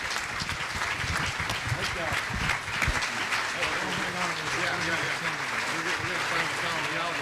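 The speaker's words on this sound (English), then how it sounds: "Let's give them a round of applause again." An audience at a gubernatorial forum gives a sustained round of applause, dense clapping that holds steady throughout, with some voices mixed into the crowd.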